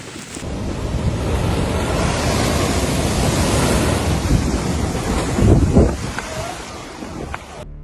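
Heavy storm surf roars continuously under strong, buffeting wind at Nubble Lighthouse, a dense, loud wash of crashing water with no clear breaks.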